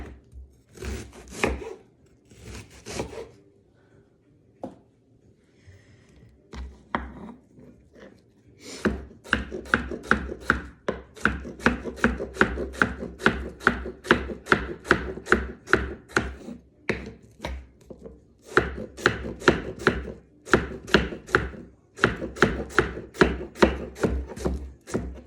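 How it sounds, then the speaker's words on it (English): An onion is diced with a knife on a cutting board, first in a few scattered bursts and then in long fast runs of crisp, evenly spaced chops close by, with brief pauses between runs. "So I'm gonna start out by dicing up the rest of that onion."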